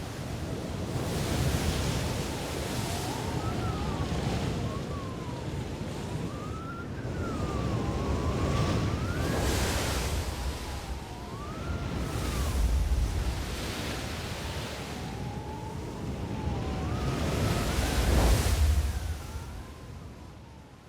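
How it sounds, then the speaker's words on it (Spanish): Hurricane wind howls over ocean waves at sea on Shackleton's voyage, a rising and falling whistle-like wail riding on a constant roar of surf, with swells every few seconds. "No los azotó con un ventarrón, sino con un fuerte huracán."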